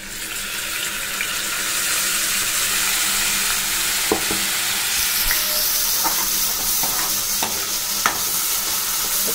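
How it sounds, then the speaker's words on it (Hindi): Kadhi base frying in a pan with a steady sizzle throughout, occasional sharp clinks and scrapes of a spoon stirring, plus a faint running-water wash in the background. "इसको अच्छे से पहले मैं फ्राई कर लूँगी ब्राउन होने तक एकदम"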